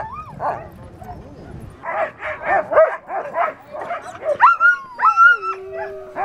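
Sled dogs on a tourist mushing run in Churchill, Canada, bark, yip and whine loudly and close by. There is a rapid run of yelps, followed by longer howling, whimpering cries.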